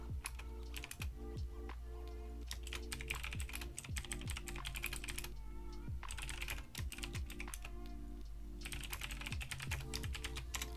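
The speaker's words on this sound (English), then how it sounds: "sorry guys for all the typing" Rapid, steady keyboard typing fills the whole stretch, close and continuous, with dense clusters of clicking keystrokes and brief pauses, no voices.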